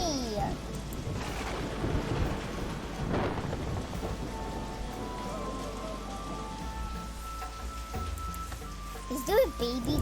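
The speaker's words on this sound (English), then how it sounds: "Uh-oh, this thunderstorm is back" A thunderstorm in the park-building game Wildlife Park 3: steady rain hissing on surfaces with low rumbling thunder, continuous throughout, with a brief sharper sound near the end.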